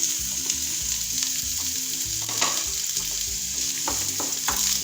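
Four medium sliced onions frying in about five tablespoons of oil in a pan, crackling sizzle with clattering stirs and scrapes, close up and without speech.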